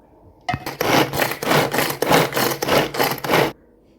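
A hand-pulled manual chopper crushes onion, ginger, green chili and curry leaves, making about seven quick rhythmic grinding, rasping bursts over three seconds, close and fairly loud, with no talking.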